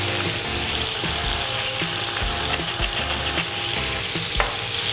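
Pepper grinder ratchets in rapid bursts over chicken frying in olive oil in a pan, the grinding clicks close and loud above a constant sizzle.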